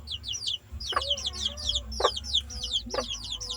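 Jungle fowl chickens clucking in repeated quick bursts at close range, with a few sharper calls standing out and a steady low hum underneath.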